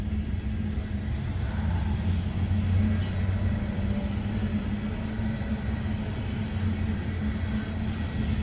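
Loaded freight train cars roll past close by, a steady heavy rumble with low rhythmic clanking that holds at even loudness throughout, with no voices.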